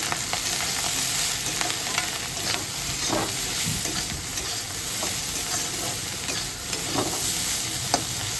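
Vegetables for bharta frying with salt and turmeric, a continuous close sizzle with repeated scraping stirs of a spatula against the pan, no voices.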